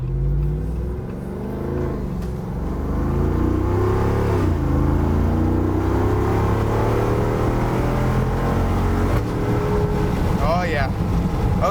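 A 2021 Jeep Wrangler JL with the 6.4-liter Hemi 392 V8 accelerates hard through paddle-shifted gears, its loud engine note climbing in pitch, dropping briefly at each of two upshifts, then pulling strongly again.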